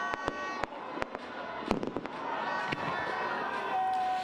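Community fireworks over Baguio's Burnham Park on New Year's Eve crack and pop in a rapid series of sharp bursts, near and then farther off, over a steady crowd murmur with no talk.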